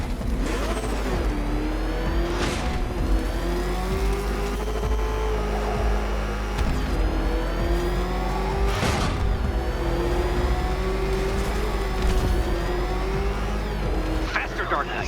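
Batmobile engine in Batman Arkham Knight revving hard during a race, a steady mid-pitched roar with rising pitch sweeps and surges, continuous and loud beneath a talking voice and game effects.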